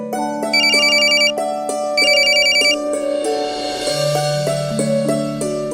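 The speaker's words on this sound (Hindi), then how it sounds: "मंजू बिटिया का फोन।" A telephone rings with a melodic ringtone, a repeating bright tone pattern that plays loud and close over a sustained musical background, with no one talking.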